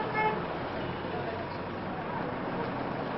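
City street traffic noise, a dense steady roadway rumble with a brief car horn toot at the start, moderately loud, while a voice talks over it.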